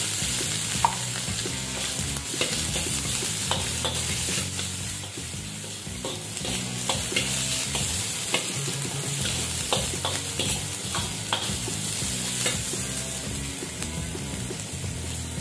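Ginger and onion frying and being stirred in a pan for chicken Bicol Express, a continuous loud sizzle with repeated scraping and clinking of a utensil throughout.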